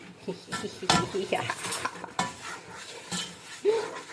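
Coconut halwa is stirred with a spoon in a hot pan, giving close, busy scraping and clanking against the metal with a faint sizzle underneath and a brief vocal sound near the end.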